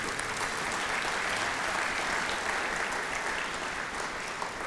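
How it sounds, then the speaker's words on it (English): Steady applause from an audience at an evening community awards event, a dense continuous wash of many hands clapping at even loudness throughout, with no voices over it. "Round of applause."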